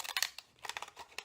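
Scallop scissors snip through paper while a rosette topper is trimmed, giving several quick, crisp close-up cuts with a crinkle of paper between them, spread over a short burst.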